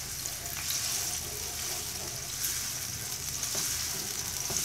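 Ginger garlic paste sautés in a hot pan for chicken wings with shimla mirch, giving a steady, even sizzle and crackle that carries on throughout with no talking.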